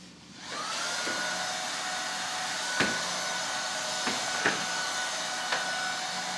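An apartment vacuum cleaner starts up and runs at a steady loud whine, with a few sharp clacks and knocks as it works along window areas.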